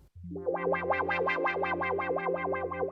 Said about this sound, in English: That's the auto wah that I just turned on.